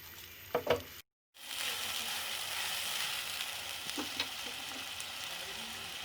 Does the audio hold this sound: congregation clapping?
no